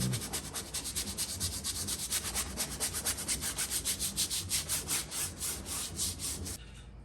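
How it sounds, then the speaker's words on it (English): A paintbrush turned sideways scrubs paint onto a canvas in quick, rhythmic back-and-forth strokes, a close, dry rasping rub repeated steadily until it stops near the end. "you can kind of turn your brush sideways and like scrub this stuff in"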